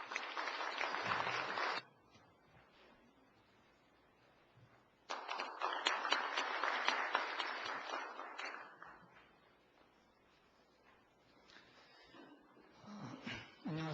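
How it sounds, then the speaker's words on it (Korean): An audience at an urban regeneration seminar applauds the head of the organizing agency as he comes up to give the opening address. Two loud bursts of steady clapping are separated by a quieter gap. "김성환 단장님을 큰 박수로 맞아주시기 바랍니다."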